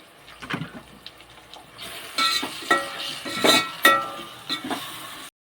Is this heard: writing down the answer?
no